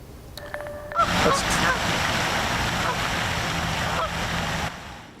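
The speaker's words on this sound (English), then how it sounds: "boy, a lot of geese there" A large flock of geese on a quiet summer afternoon in Bristol, Connecticut, honking continuously and loudly at close range over a steady outdoor background, with no voices.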